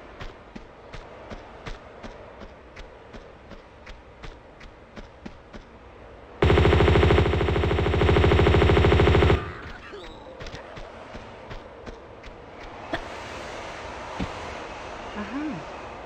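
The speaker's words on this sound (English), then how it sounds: "I'm gonna use the M16 to deal with all my enemies" M16 rifle shots crack in a steady single-fire rhythm in Tomb Raider 2 on the Tibetan Foothills level, followed by a long loud droning burst of game noise and a few scattered shots afterwards.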